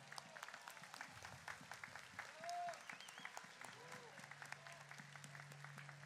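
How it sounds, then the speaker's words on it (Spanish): A festival crowd claps, quiet and somewhat distant, as a scattered patter of hand claps spreads over a soft hum, with a brief murmur of voices in the middle. "Para ellos un aplauso."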